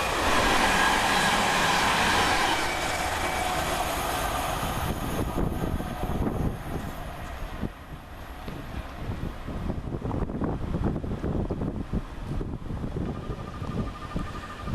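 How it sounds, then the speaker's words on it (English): A Class 222 passenger train on the St Pancras to Nottingham service passes Flitwick railway station, a loud sustained rumble and rush, fading slightly midway into rattling wheel and car noise with wind buffeting the microphone. "Coming around the corner is 222016, working 1 Delta 31 from London St Pancras International to Nottingham"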